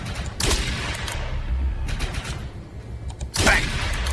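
Gunshots in the Defiance video game fired at mutants near a reactor: two loud, sharp bursts about three seconds apart over a steady game background.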